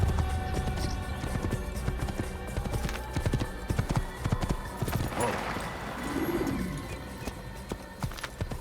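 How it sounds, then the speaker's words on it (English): Horse hooves clip-clop rapidly and steadily in Assassin's Creed, with a close, rhythmic clatter of galloping and a brief whinny midway. "When doing this, the horse looks more like it's prancing."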